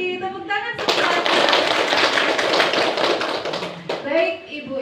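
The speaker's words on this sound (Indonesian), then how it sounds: "tepuk tangan semuanya" A room of teachers at a training session breaks into a dense burst of clapping lasting about three seconds, loud and close, with speech just before and after it.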